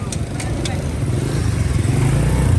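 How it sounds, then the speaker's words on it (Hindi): A motorbike passes on a city road near a civil hospital, its low engine rumble building steadily louder, while people talk over it. "इधर से बाइक है, ध्यान से।"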